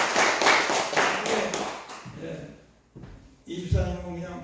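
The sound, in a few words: audience clapping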